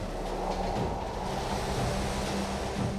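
Ocean waves surge in a dense, continuous wash of surf, loud and close throughout, with no voices.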